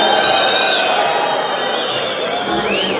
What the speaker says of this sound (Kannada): ಚಪ್ಪಾಳೆಗಳು ಕೇಳಿಬರಲಿ.